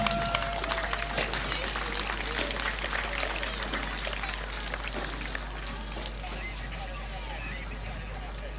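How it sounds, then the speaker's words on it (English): An audience at an inter-primary school athletics championship applauds a march past, a broad, steady clatter of clapping heard at a distance under an amplified announcer's voice and a low constant hum. "You cannot allow such a powerful, impressive march past to go without your applause"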